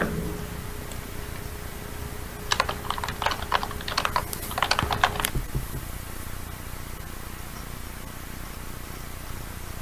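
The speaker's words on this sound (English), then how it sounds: "I muted you because like you were typing." Computer keyboard typing in a burst of quick irregular clicks lasting a few seconds, fairly faint and close, with a quiet background hum before and after.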